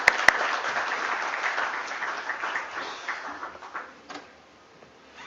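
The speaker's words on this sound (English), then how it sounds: "Let's have a huge round of applause for sir," Audience at the GNG Electronics Limited IPO listing ceremony applauds to welcome speaker Akash Agarwal; a couple of sharp close claps open a full round of clapping that tapers off into scattered claps and near quiet.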